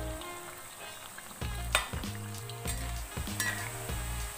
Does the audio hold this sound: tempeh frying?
yes